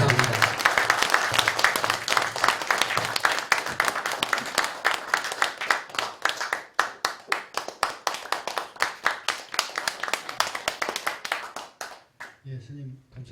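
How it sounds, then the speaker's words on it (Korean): Dense, sustained applause from an audience at a Buddhist association's anniversary ceremony following a monk's talk, loud and steady at first, then thinning into individual claps before fading out. "여러분의 뜨거운 박수를 받고 이 자리 물러가겠습니다"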